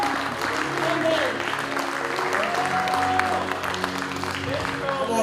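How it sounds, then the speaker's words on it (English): An audience claps at a church youth crusade on a Samoan night, sustained loud applause from a crowd under a speaker's voice and singing tones throughout. "Come on, give a bigger hand clap for Jesus."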